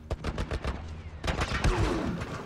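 A military turret in The Last of Us fires a fast, steady string of loud shots in the first half, then the gunfire carries on more raggedly amid clattering impacts close by.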